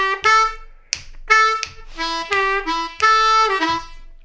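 A blues lick on a D harmonica, played as a series of reedy, harmonic-rich notes with short gaps between phrases, some notes bent downward in pitch, close and clear with no other sound.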